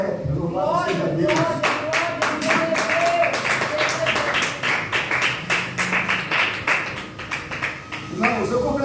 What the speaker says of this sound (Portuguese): Pode aplaudir o Senhor, você pode. Palmas bem alegre.